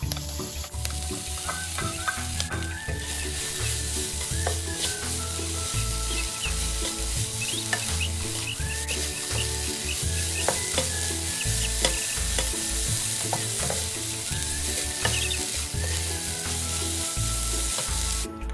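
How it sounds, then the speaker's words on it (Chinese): Lotus root stir-fried with dried shrimp in a hot wok over medium heat, a dense continuous sizzle with frequent clanks and scrapes of the spatula tossing the ingredients, close and loud throughout. "接着再将莲藕加入一起炒香"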